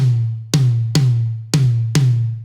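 A metal tom drum is struck five times in a steady rhythm, each hit a sharp, bright attack over a deep, sustained boomy tone that decays slowly, heard close and dry with no voices.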